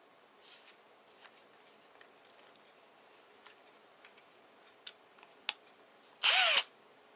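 Black & Decker battery drill with a 2.5 twist bit drilling into a small part of an Albott tripod's crank gear. A few faint clicks and taps lead up to one short, loud, whining burst of drilling near the end.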